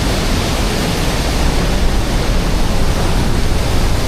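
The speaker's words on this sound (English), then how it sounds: "What do you think of Glenariff waterfall?" Glenariff waterfall rushes up close, a loud, unbroken roar of falling water that stays steady throughout with no voices.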